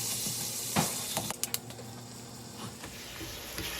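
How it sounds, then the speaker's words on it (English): Ground beef sizzling in a pan over medium-high heat, a steady soft frying hiss with a few sharp scrapes and clinks of stirring near the middle. "Next, we want to cook the ground beef on medium-high heat."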